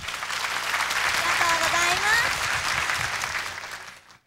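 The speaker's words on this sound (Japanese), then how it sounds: "拍手。" Audience applause at a Sailor Moon musical Golden Week fan thanks event in 2002, a steady wash of clapping from a crowd that swells and then fades out at the end, with a voice audible over it.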